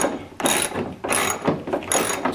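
A socket ratchet tightens the lower headlight nut on a 2009-2018 Ram truck, clicking in four steady, loud bursts of rapid pawl ticks with short pauses between strokes, close up and without talk.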